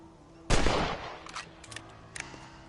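A single loud rifle shot in Red Dead Redemption cracks close by, followed by a decaying echo and a few faint clicks.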